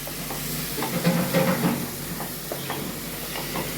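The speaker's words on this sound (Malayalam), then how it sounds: "തക്കാളി ഇടുമ്പോൾ തക്കാളിൻ്റെ വെള്ളം കാരണം പൊട്ടിത്തെറിക്കുക അല്ലേ എന്നാൽ നമുക്ക് നന്നായിട്ടൊന്ന് ഇളക്കാം" Soft hissing and light crackling from tomatoes frying in hot oil, steady and fairly quiet with a few brief pops.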